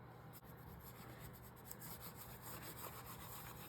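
A bone folder burnishing paper and washi tape down in a collage art journal, giving a steady, close, soft rubbing and scraping that runs continuously with small strokes throughout, with no talk.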